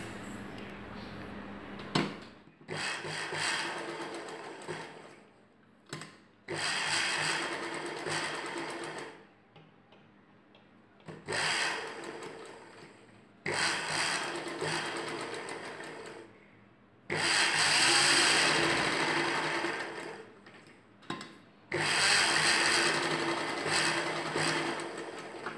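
A sewing machine stitches the lining of a blouse in a series of close, steady, whirring bursts, each lasting a few seconds and separated by brief quiet pauses as the fabric is repositioned.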